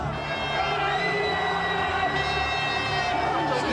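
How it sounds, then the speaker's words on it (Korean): Supporters gathered outside the presidential residence in Hannam-dong, Seoul, cheer on a cold day, a loud continuous crowd roar with shouts and sustained whistle-like tones over it. "한남동 관저 앞에 모인 사람들은 환호했습니다"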